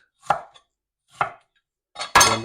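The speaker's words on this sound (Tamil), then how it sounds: "அதே மாதிரியே பீஸ் ஆக்கி போட்டு" A knife chopping raw chicken into pieces for chicken curry: three sharp, separate cuts with short gaps between them, the last one louder and longer, close up with no talking.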